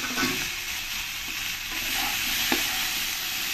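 Kohlrabi and potato pieces fry in oil with turmeric, salt and tomato, a close, continuous sizzle with a few scraping stirs and one sharp clack of the spoon against the pan.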